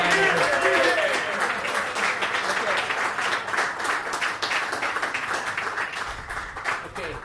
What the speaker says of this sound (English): I just want to give a big round of applause